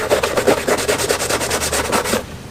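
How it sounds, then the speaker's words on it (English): A plastic nylon brush scrubs briskly at paint on a Yamaha YZ450 motocross bike part, producing close, loud, rhythmic back-and-forth strokes that stop abruptly. "See if I can aggravate the paint a little bit with a plastic nylon brush."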